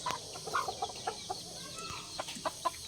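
Gamefowl chickens cluck in a backyard fly pen with a string of short, scattered clucks and soft calls at moderate distance over a low outdoor background.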